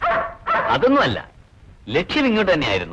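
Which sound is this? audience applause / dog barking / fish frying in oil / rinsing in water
dog barking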